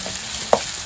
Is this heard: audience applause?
no